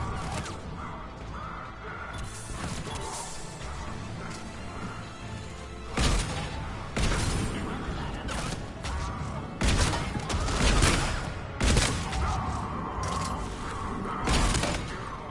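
Shotgun blasts in a Mass Effect 3 firefight: several loud, sharp bursts spaced a second or two apart over a dense bed of game music and combat noise.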